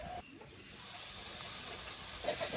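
A splash of water hits frying spice paste in a pan and bursts into a loud, steady hiss of steam that carries on close by for a couple of seconds, with no one speaking.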